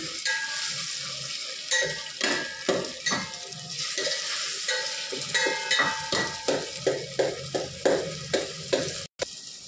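Meat frying in a pot for a feast crackles steadily while a spoon stirs it in regular scraping, clinking strokes, close and loud, ending with a sharp knock.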